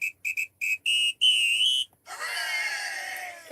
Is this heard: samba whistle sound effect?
yes